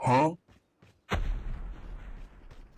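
A loud, deep grenade explosion in Call of Duty Mobile bursts out after a brief voice, its rumbling boom trailing off with debris-like crackle.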